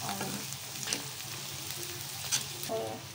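Capsicum sautéing with salt in a pan for chutney, a soft, steady sizzle with a few spoon scrapes and clinks from stirring, close and alone.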